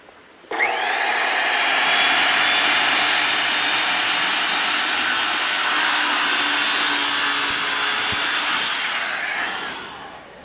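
A power saw rips through a test piece of wood while trimming a door top, a loud, sustained whining cut starting abruptly, holding steady for about eight seconds, then winding down.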